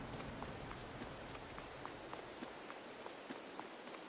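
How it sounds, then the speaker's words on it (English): Rain falls across the farmland in Farming Simulator 22 on the Elm Creek map, a faint, even hiss with scattered soft taps and what may be footsteps, no talk over it. "Oh, now it's raining."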